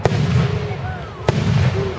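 Fireworks bursting at an outdoor display in Richmond, two sharp booming cracks about a second apart with whistling streaks between, over a background murmur of a crowd.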